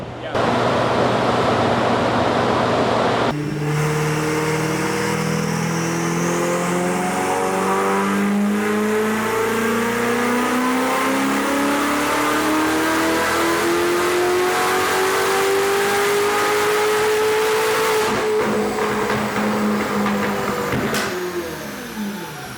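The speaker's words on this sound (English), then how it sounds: "It sounds like a misfire to me." A loud turbocharged Ferrari 488 GTB engine misfiring on a dyno roars at high revs for the whole stretch, its pitch climbing and wavering roughly, with a rough, stuttering edge.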